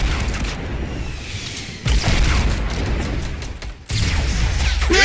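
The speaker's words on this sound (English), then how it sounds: "I'm just hitting him with fucking rockets hard as tits" Rocket blasts in the Fortnite video game, loud booming bursts with two sharp onsets about two seconds apart over a dense, continuous rumble of game noise.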